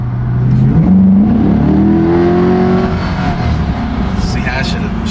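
A Chevrolet Corvette C7 in sport mode revs hard at high RPM, its engine note climbing in a loud, sustained pull from inside the car while people talk over it.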